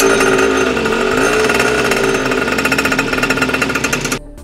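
Small engine of a mini motorcycle being started on fresh fuel with the choke up, a loud rapid buzzing rattle that runs steadily and then cuts off abruptly at the end.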